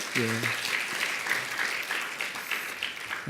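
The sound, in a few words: congregation applause welcoming a guest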